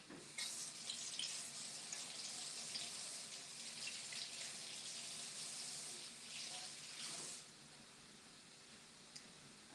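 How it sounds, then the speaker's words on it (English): Tap water runs steadily over green onions being rinsed in a sink, a close, even hiss with splashing that eases off near the end. "Let me rinse them off real quick."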